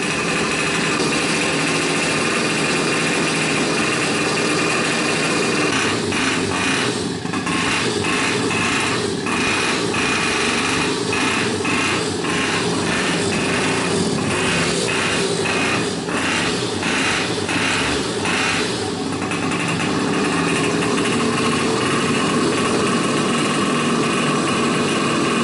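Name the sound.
Little Monsters pocket bike engine running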